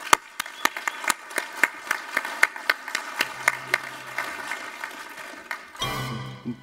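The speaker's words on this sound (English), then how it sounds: "How about a round of applause for them?" Scattered clapping from a conference audience as panelists walk out at a television design event: distinct individual claps in an irregular rhythm, fairly close and moderate, thinning out before a burst of noise at the end.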